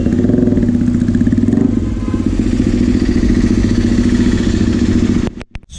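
A motorcycle fitted with an SC Project exhaust rumbles loudly and close in a rapid, pulsing beat, swelling briefly with throttle before cutting out with a few clatters at the end.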